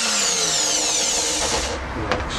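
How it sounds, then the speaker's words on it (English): A pillar drill bores holes through leather for a simple sheath, giving a continuous close whirring and grinding with shifting pitch and a sharp click near the end. "Now we need to drill this out and then drill that out. So I shall do that on the pillar drill."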